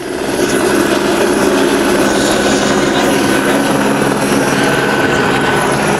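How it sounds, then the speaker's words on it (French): A gendarmerie helicopter taking off, its rotor and engine roaring loudly and steadily throughout, a dense, continuous whirring drone close by, with strong wind noise mixed in. "vous voyez l'hélicoptère prendre le départ"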